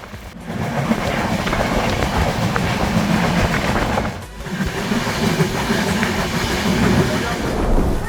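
The Rajdhani Express running at speed toward Ranchi: a loud, continuous rolling rumble and rattle of railcars with faint clickety-clack, briefly dipping once midway.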